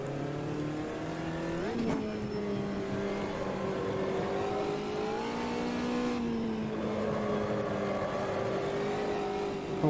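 Race car engine in the sim racing game Automobilista 2, a steady high-revving drone with a brief rev change and gear shifts, loud and close with no talking.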